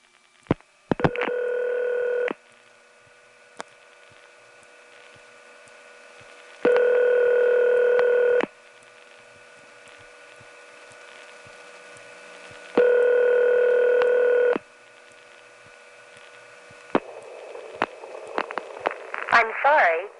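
A 4A telephone switch on a long distance call sends revertive pulsing: three steady buzzing tone bursts, each about two seconds long, separated by quiet line hiss and faint clicks, with rapid clicking and pulsing near the end.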